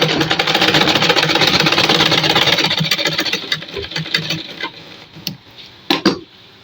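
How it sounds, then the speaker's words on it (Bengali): A sewing machine stitches the seams of a pleated-waist salwar together, running in a steady mechanical whir for several seconds before slowing and stopping, followed by a few sharp clicks and taps near the end. "নিচের পাড়ের মাঝখানের জোড়া একসাথে সেলাই করে নেব"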